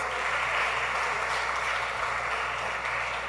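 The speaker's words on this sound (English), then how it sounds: "Please give them a round of applause." Sustained audience applause at a Ministry of Education talk held at El Dorado West Secondary School, a dense, steady wash of clapping from a crowd, loud and continuous throughout without any talk over it.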